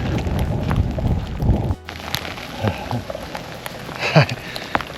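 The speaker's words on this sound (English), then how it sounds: "It's actually full on hailstones." Dense pattering of hailstones on surfaces at Magpie Mine in Derbyshire, England, loud at first, then a sudden drop to lighter scattered impacts with occasional sharper hits.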